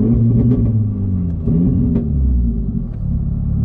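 A Mercedes-AMG A45 car engine with a big turbo revs steadily up close, a deep rumbling drone that rises and holds with no voices over it.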